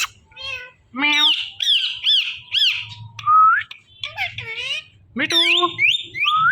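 A pet parrot gives a string of sharp, piercing squawks and chattering calls, close and loud, with short pauses between bursts.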